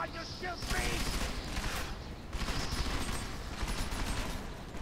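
Gunfire in the video game Deus Ex: Mankind Divided crackles in rapid, dense bursts of automatic shots, loud and nearly continuous with a brief lull in the middle, while a player talks over it.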